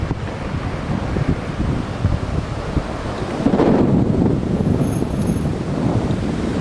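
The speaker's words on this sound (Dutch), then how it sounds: "Het waait trouwens ook lekker hier." Strong wind buffets the microphone on a hillside road near Gilette in southern France, a steady loud roar that swells and gusts harder midway, with no talking.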